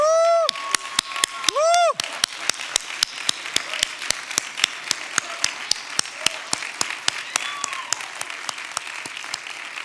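At a charity challenge finals event, a few sharp, loud, evenly spaced claps punctuate the sound while a voice cheers with rising whoops, with a lighter patter of audience applause running beneath.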